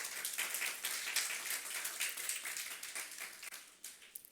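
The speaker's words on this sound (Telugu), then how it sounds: "అర్థమైందన్న వాళ్ళు చప్పట్లు కొట్టండి" An audience claps hands together at a Good Friday church worship service in Guntakal, producing a steady, dense patter of applause that runs throughout without a break.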